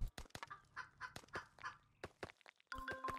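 Chickens in a primitive-society simulation game cluck in quick, loud bursts, several birds close by with a sharper squawk at the end, no talk over them.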